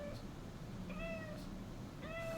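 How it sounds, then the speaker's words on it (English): A cat meows twice indoors, two short, clear calls about a second apart over a faint steady background hum. "Can you stop meowing?"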